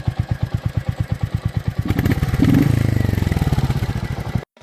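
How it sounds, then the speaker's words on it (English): A single-cylinder Royal Enfield motorcycle engine thumps in a steady, slow rhythm, then revs up to a quicker, louder throb before cutting off abruptly. "I like the thump of Royal Enfield specifically."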